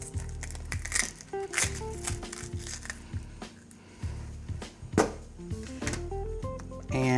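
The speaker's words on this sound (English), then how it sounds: "We're just going to remove the outer layer of the onion." Onion skin being peeled off by hand while preparing a honey pork roast, with close crinkly crackling and tearing in irregular bursts over a faint background hum.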